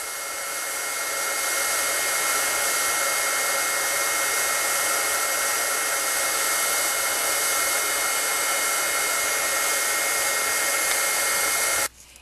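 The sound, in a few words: heat tool embossing craft ink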